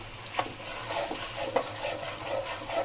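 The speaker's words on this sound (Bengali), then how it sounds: "এখন আমি এই তেলের মধ্যে ভেজে রাখা পেঁয়াজ, মরিচ, রসুন এগুলা দিয়ে দিব" Onion, chili and garlic fry in hot oil with a soft sizzle while a utensil stirs and scrapes the pan in a few quiet, irregular strokes.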